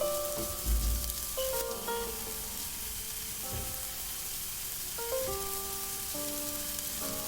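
Four crushed garlic cloves fry in oil with turmeric and crushed dried chili, giving a steady, even sizzle throughout under soft background music.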